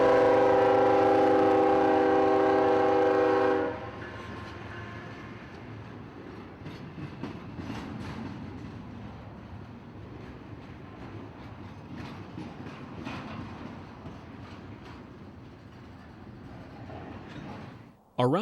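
A freight train sounds a loud, sustained multi-tone horn up close at a Jacksonville rail connection, then rumbles and clatters past at slow speed. The wheel noise stays steady for over a dozen seconds.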